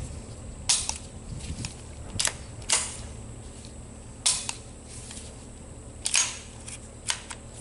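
Hammer clicks from an ATI M1911 .45 pistol during a function test, sharp metallic snaps repeated at irregular intervals, about ten in all, close and crisp over a quiet room.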